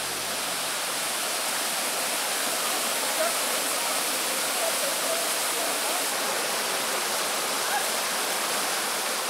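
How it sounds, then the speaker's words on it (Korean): A hot spring waterfall in Krabi, Thailand, cascading over terraced pools, giving a dense, steady broadband rush with no breaks, close and loud throughout. "온천 폭포다."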